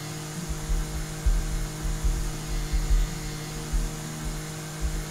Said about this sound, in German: Mit dem Rasenmäher hier hinten.